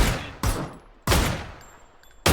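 Gunfire in the battle royale game PUBG: three sharp, loud shots spaced roughly half a second apart, each decaying with a ringing tail, with no talking over them.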